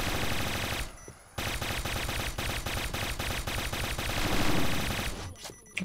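Video game gunfire from the shooter PB plays as rapid, steady automatic bursts, loud and close, with a brief pause near the start and a rattling, mechanical rhythm throughout.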